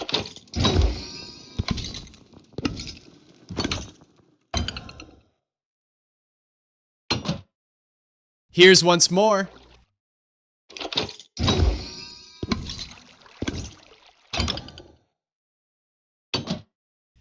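In vanilla Minecraft, a hopper and redstone-triggered vault door operates in bursts of blocky thuds and mechanical clunks separated by silent gaps, with a longer grinding, sliding stretch midway. A brief spoken line comes near the end.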